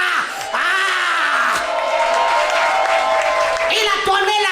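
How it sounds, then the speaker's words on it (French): A church congregation loudly cheers and shouts praise for Yeshua: a dense, continuous roar of voices and whoops that swells and holds, with a brief dip near the start before rising again. "lève-toi et acclame très fort Yeshua"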